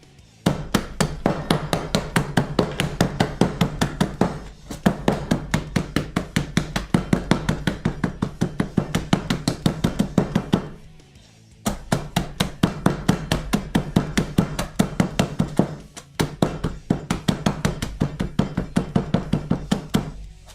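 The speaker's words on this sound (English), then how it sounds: "Little bit of crushed ice. With the tiny ass wrench." Ice is crushed with a small wrench for a cocktail, a fast, steady run of sharp, close knocking strikes repeated in four long bursts separated by short pauses.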